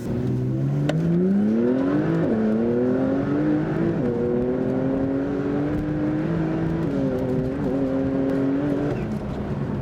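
A Porsche 991.2 Carrera T engine with APR turbo kit on E85 fuel revs and accelerates continuously, its pitch climbing through several gear shifts with brief drops between them, loud and close throughout.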